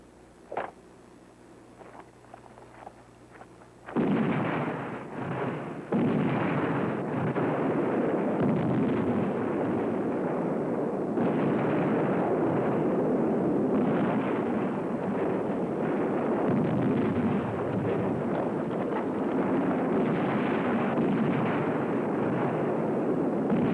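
Battlefield artillery fire in a 1987 war film about the Battle of El Alamein: after a few sharp distant reports, a loud sustained roar of continuous bombardment and explosions rumbles steadily through to the end.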